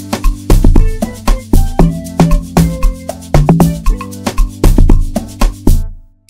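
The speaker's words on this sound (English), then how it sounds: "So I just added this log drum bounce, sounds like this." Punchy log drum bounce in an Afrobeats beat, with rhythmic, plucky low tones and tight percussion hits repeating in a syncopated pattern, loud and upfront before ending abruptly.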